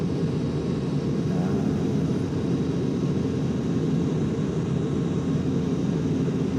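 Jet engines of a Boeing B-47 Stratojet in the X-Plane flight simulator game give a steady, loud, unbroken roar with a low rumbling body, heard alone without speech.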